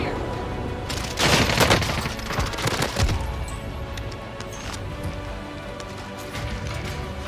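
Fully automatic Psykov pistols in a video game, firing in rapid bursts of sharp cracks that come close and loud, with scattered clatter between volleys and some voice in the background.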